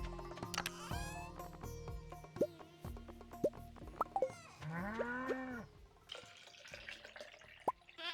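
A cow in the Stardew Valley farming game gives a long, loud moo with a rising then falling pitch, set among light game chimes, soft drips and short effect sounds.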